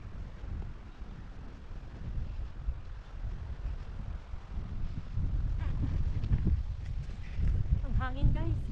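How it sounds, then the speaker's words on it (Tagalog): Steady wind rumbles and buffets the microphone throughout on a path up to the A-Ma statue at Hac Sa Reservoir, with a voice speaking faintly underneath near the end. "Ang hangin"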